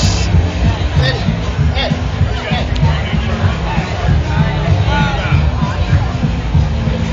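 A dense crowd moving through the San Diego Gay Pride Festival outdoors, a loud continuous babble of many voices with low rumbling hum and wind buffeting close to the microphone.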